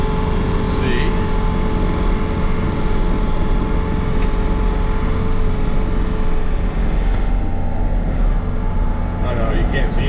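Skid loader engine running steadily while the machine is driven, a loud continuous low rumble filling the clip, with a brief faint higher sound near the start and end.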